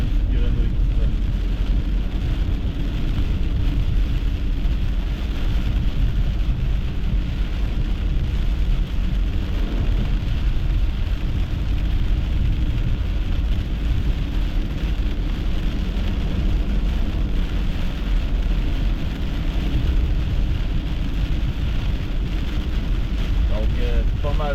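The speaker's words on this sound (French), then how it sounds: "C'est des éclairs avec de la forte pluie." Heavy rain pours down steadily during a late-August thunderstorm, a dense continuous wash of loud noise with low rumbling underneath and no clear separate thunderclaps.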